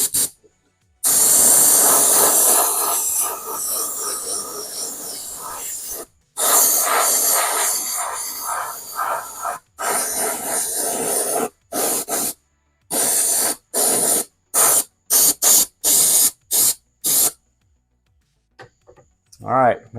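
Aerosol spray can hissing yellow paint onto an RC car body for a speed run build, starting with long continuous blasts that break into a string of short, rapid bursts near the end; close and loud.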